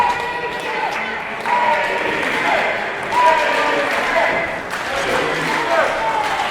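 A wrestling arena crowd roars and swells in waves during a WinterMania tag match, while commentators talk steadily over the noise.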